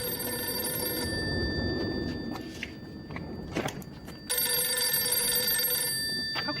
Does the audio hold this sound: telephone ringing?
yes